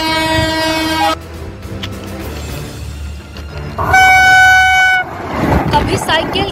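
A train horn blares loud and near, with a steady rumble of rail wheels on the track beneath it, on a railway line in Prayagraj. A second long horn blast follows, and someone talks over the noise.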